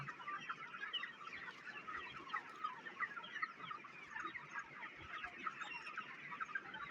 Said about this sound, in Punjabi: ਤਾਂ ਦੇਖੋ ਸਟਾਰਟਰ ਫੀਡ ਖਾ ਰਹੇ ਹਨ